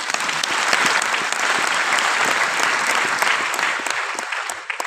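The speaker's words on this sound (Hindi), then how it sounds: "बहुत सुंदर, प्रदीप जी के लिए तालियां।" Loud, busy clapping from a seminar audience on direct selling and branding, with individual claps standing out in an even burst of about five seconds.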